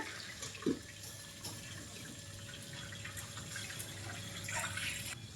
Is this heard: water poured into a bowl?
yes